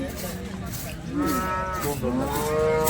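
A cow at the Sangola cattle market lets out a couple of close, drawn-out moos, one after another, with some background noise and faint voices.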